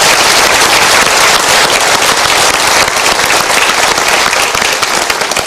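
Loud, dense applause fills a motivational seminar hall as the audience claps together for the KPK anti-corruption agency, a continuous crackling roar of many hands close up.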